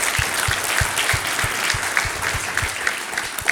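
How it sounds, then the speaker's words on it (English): An audience at a panel discussion claps for a few seconds, steady applause of moderate loudness with several distinct nearby claps standing out in a regular beat. "let's give Ken and his team a round of applause for helping us out"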